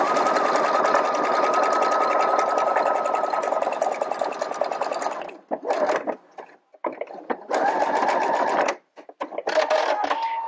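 Domestic sewing machine stitching a jersey T-shirt shoulder seam: a steady, loud mechanical whir runs for about five seconds, then breaks into short stop-start bursts with brief back-stitching runs and pauses, with no talking.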